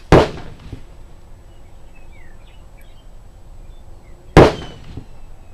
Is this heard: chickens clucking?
no